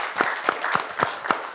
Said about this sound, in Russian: Давайте аплодисменты продюсеру.